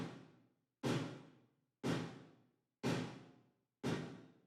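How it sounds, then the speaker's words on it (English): Four soloed snare hits land about once a second, each a sharp loud crack trailed by a short stereo room reverb (Valhalla VintageVerb, roughly 700 ms) that decays before the next strike. "The first one is the short 700 milliseconds room reverb that's fully stereo"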